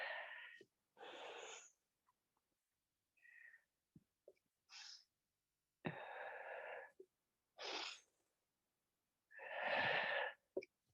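Audible Pilates breathing, a series of loud, breathy inhales and exhales in separate bursts with short pauses between them, heard close up with no talking.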